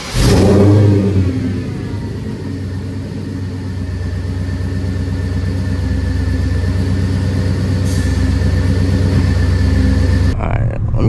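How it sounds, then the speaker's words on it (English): Mercedes E55 AMG engine on a cold start, a loud catch and flare at the start settling into a deep steady rumbling idle that continues close by, with brief talk. "Cold start for you guys."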